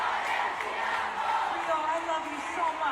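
A stadium crowd at a concert in Rio de Janeiro cheers and chants through a long applause break, a dense continuous roar of many voices filling the whole clip.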